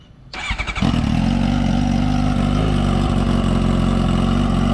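A Suzuki GSX-R750 sport motorcycle engine, fitted with its silencer, cranks briefly, catches, and settles into a loud, steady idle close by.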